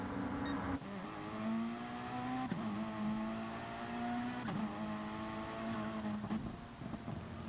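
Race cars from a Formulagary DGT GR3EVO race roar steadily, engine tones rising and shifting as the pack closes in, with brief dips between passes and no talk.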